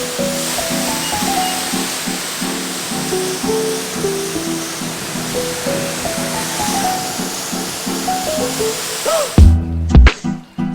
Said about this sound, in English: So now we're going to spray the car down with this and let it do its thing.